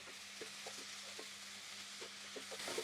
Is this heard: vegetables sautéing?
yes